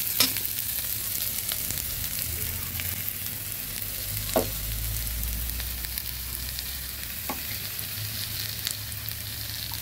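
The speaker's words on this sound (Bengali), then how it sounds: "এবার আস্তে আস্তে বাটা মশলাগুলো দিয়ে দেব।" Ground spice paste frying and being stirred in a pan for a fish-head and taro curry, a steady soft sizzle with occasional scrape and clink of the spoon, no talking.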